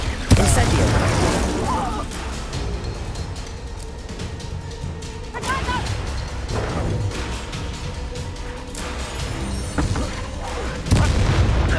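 A fire spell cast in the video game Hogwarts Legacy, one of several loud booming spell blasts and crackling bursts over dense game music and noise, with brief whooshes.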